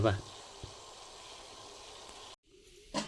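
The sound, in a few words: steam boiling in a cooking pot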